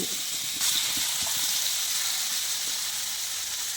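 Spiced marinated chicken sizzling on a hot dosa pan, a steady close hiss of frying that runs unbroken throughout, with a few faint clicks and pops beneath it.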